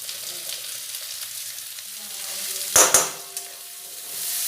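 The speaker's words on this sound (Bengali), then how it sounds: "নাড়াচাড়া করে মিশিয়ে নেব।" Sliced vegetables, including thin strips of papaya, sizzle and fry steadily in a hot pan for chicken chowmein, with a couple of sharp clanks from stirring partway through and a soft hiss underneath.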